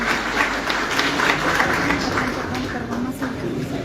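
An audience at a Quechua-language literary event applauds for Faustino Flores Meneses, a dense round of clapping that carries on steadily and fairly close, with a voice speaking over it.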